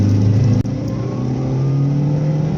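A Mitsubishi Galant accelerating in second gear, its engine note a steady close hum that climbs in pitch after a brief dip, heard from inside the car with no talking.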